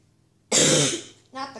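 A single harsh cough or throat-clearing burst, close and loud, followed shortly by a shorter vocal sound, during a Roblox FNAF game session.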